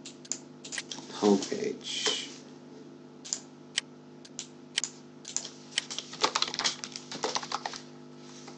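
A computer keyboard being typed on in bursts of quick, crisp key clicks, close and clear, with a voice speaking briefly early on.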